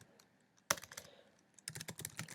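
Keys clack on a computer keyboard while a comment is written in Google Docs, a lone sharp tap followed by a quick burst of close, quiet typing.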